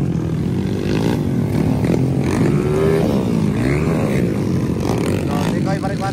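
Underbone motorcycles with 4-valve and 2-valve engines race in an open final heat at Dagumbaan, Maramag, their engines droning loud and close with rising and falling revs, and commentary runs over the noise.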